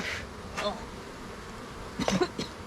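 Honey bees buzz in a hive box being worked by a beekeeper, a steady close hum under brief coughs or throat noises and a few knocks.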